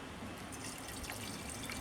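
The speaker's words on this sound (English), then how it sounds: "just pour it into our funnel" Sugar-water hummingbird nectar pours from a shaker bottle into a funnel and feeder, a soft continuous trickle and splash that runs steadily for under two seconds with no talking.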